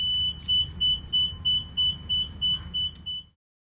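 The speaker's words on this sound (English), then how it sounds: "All self-propelled scissor lifts are fitted with a tilt alarm that will activate if you are operating in the elevated position beyond a preset safe working gradient." A self-propelled scissor lift's tilt alarm sounds a steady run of about eleven evenly spaced high electronic beeps over a low machine rumble, then cuts off.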